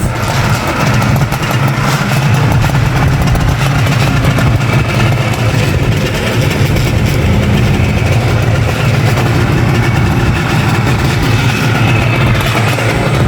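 A 1974 Suzuki GT185 two-stroke, twin-cylinder motorcycle with two carburetors idles and burbles loudly through its exhaust at close range. Steady, dense engine drone holds throughout without a break, and no one talks.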